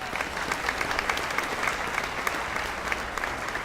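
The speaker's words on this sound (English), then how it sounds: "Please give these folks a round of applause." An awards show audience at a school sports conference event gives a steady round of applause, many hands clapping in a continuous, moderately loud wash with scattered crisp claps.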